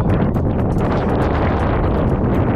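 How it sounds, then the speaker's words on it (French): Strong gusting wind batters the microphone at a high Alpine mountain pass, the Col de Chamoussière, with a loud continuous roar and no speech. "Désolé pour le vent."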